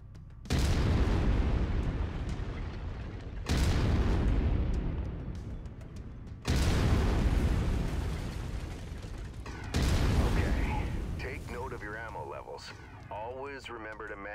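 A mech's autocannon fires in MechWarrior 5, four heavy booming blasts spaced roughly three seconds apart, each followed by a decaying rumble, with mechanical whirring after the last shot.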